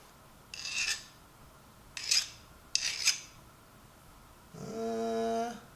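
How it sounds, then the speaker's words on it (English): Three short, harsh rasping strokes of a metal file on a steel ratchet, close by, testing its hardness, followed by a sustained high whining scrape. "I'm going to check to see if this is hardened. So what I got is a file."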